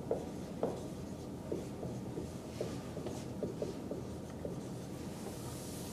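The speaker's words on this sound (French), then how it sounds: "je vais juste écrire celui-ci un peu plus haut" Notes being written by hand on a classroom board, a run of short scratchy strokes and taps in an irregular rhythm, faint and close over a low steady room hum, with no talking.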